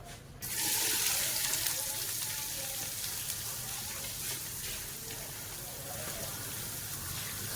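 Chopped small shallots and medium onions hit hot oil for a mutton gravy, bursting into a loud, steady sizzle that stays close and continuous with no talking over it.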